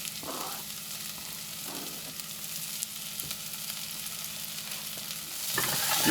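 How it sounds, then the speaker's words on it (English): Serrano peppers frying in a pan with green onions and herbs, a steady close sizzle interrupted by a few brief stirring scrapes, growing slightly louder near the end, without speech. "Alright, these are softening up real nice. You can definitely smell those Serrano peppers cooking."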